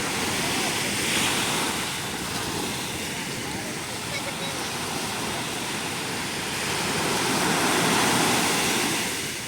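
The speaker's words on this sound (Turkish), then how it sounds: "Dalgalar sahile vururken" Sea waves breaking on the beach at Side, a continuous, loud wash of surf with gentle swells in intensity, heard alone with no talking.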